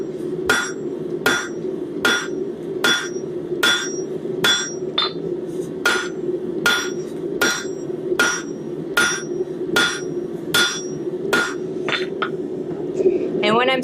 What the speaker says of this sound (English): it's moving a lot faster with this 3-pound hammer